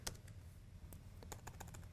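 Soft clicking keystrokes on a computer keyboard come in an irregular run of taps, close but quiet, with no talking.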